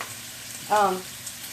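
Bacon frying in a pan on medium heat, a soft, steady sizzle running quietly in the background with a brief, slightly louder burst partway through.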